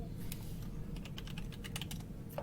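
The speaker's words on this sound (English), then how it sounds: "I'm typing as fast as I can!" Someone types quickly on a computer keyboard, a rapid, irregular patter of key clicks over a low steady hum, fairly quiet and with no voices.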